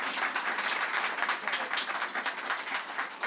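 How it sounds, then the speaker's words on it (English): An audience at a public event in Brooklyn gives Assembly Member Latrice Walker a round of applause, loud, steady clapping that fills the whole stretch with no talking. "give a round of applause for our Assembly Member Latrice Walker"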